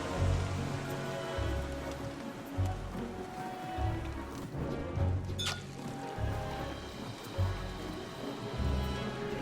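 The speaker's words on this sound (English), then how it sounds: "The rain is a real pain as well." Steady in-game rain in Don't Starve Shipwrecked patters and hisses throughout while sailing a boat, with a soft rhythmic low sloshing underneath and one brief sharp tap partway through.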